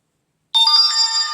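A Cubot X30 smartphone plays its ringtone, a bright electronic melody that starts abruptly after a short silence and continues steadily and loudly to the end.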